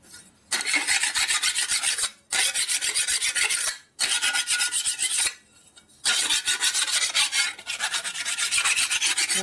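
A file rasps hard across a metal part of a big-bore Harley Shovelhead stroker motor in rapid back-and-forth strokes, loud and close, in three bursts separated by brief pauses, no talking.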